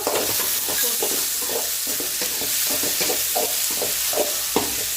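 Tomato sautés in a hot pan with onion and dried chili, producing a constant sizzle broken by a regular rhythm of spatula scrapes and stirring strokes, close and fairly loud, with no speech.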